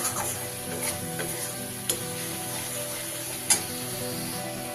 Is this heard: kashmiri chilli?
yes